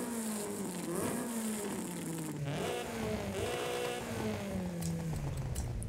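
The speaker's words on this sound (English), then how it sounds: "Yeah, the exhaust changes completely." A modified exhaust on a car in Forza Horizon 5 growls through several rising and falling revs, a loud, continuous engine drone that sweeps in pitch with brief throttle blips.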